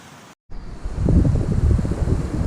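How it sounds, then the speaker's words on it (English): Wind picking up at the seashore, gusting and buffeting the microphone with a steady low roar that swells after a brief dropout, loud and close, with no voice. "I hope you can hear me, the wind's picking up."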